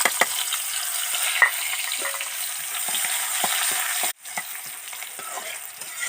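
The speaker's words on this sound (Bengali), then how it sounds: "হালকা ভাজা নিব পেঁয়াজটারে" Onion frying in oil in a wok, a continuous close hiss and crackle with light stirring scrapes and a brief dropout near the end, with no voices.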